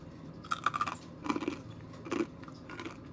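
Homemade cheese chips being bitten and chewed close up, several crisp crunchy bursts in an uneven rhythm, quiet and without talk.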